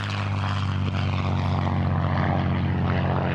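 A Spitfire, a British propeller-driven fighter plane, drones with a steady, loud, close engine and propeller roar, with no talk over it.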